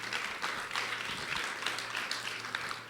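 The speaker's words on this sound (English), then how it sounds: "So maybe give a quick round of applause for them." Faint, steady applause from a conference audience, a soft wash of clapping heard from a distance throughout with a low hum beneath.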